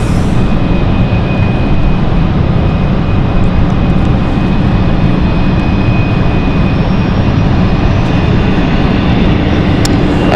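An inbound flight from Edinburgh arriving at London City Airport in the evening, a loud, steady broadband jet engine roar that holds constant throughout without any talk.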